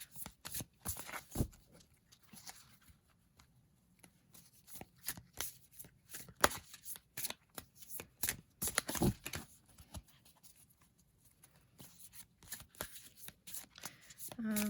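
An Osho Zen Tarot deck is shuffled by hand, with rapid crisp riffles and card flicks coming in irregular bursts, close and fairly quiet, and brief pauses between handfuls.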